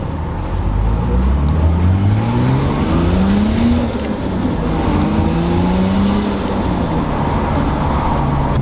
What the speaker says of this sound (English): Get it up to operating temperature, take it for a quick drive and see how we go.